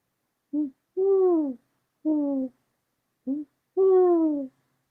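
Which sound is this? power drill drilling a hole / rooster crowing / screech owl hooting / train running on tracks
screech owl hooting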